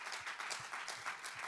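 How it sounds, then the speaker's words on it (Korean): Faint, rhythmic clapping from a congregation at a special Sunday worship service in a Korean church, a brief, fairly steady patter of many hands heard at a distance. "우리 하나님께 감사와 영광의 박수를 올려드리겠습니다."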